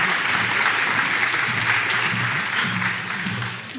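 An awards-ceremony audience at the 2024 Games for Change Awards applauds for nominees, a steady, fairly close wash of clapping that carries evenly throughout and tapers slightly at the end.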